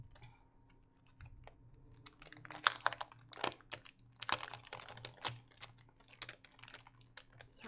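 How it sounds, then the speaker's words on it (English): Crinkling and rustling of craft supply packaging, a stamp kit, handled close by in irregular crackling bursts that grow busier and louder midway, with no talking. "Sorry for the crinkling."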